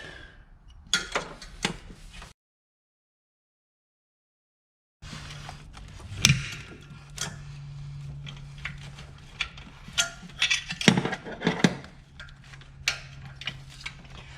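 Two box-end wrenches are used together to loosen engine bolts on a 1999 Mustang GT during engine removal, giving scattered metallic clicks, taps and clanks close by, broken by a few seconds of silence, with a faint steady hum in the second half.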